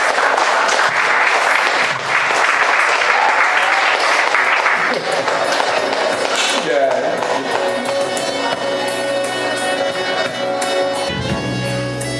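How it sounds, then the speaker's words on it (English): Audience applause for the poet Nassifah at a Free State Art Fusion poetry session, loud and dense clapping from a crowd that thins near the end as musical tones take over. "Can we please give Nassifah a huge round of applause?"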